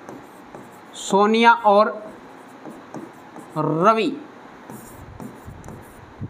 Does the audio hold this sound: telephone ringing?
no